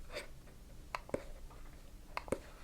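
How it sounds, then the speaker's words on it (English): The touch surface of an Apple TV remote gets pressed down in two pairs of small, faint clicks, each pair quick and close, with a short pause between the pairs in a quiet room. "So that is the touch surface that I'm clicking on"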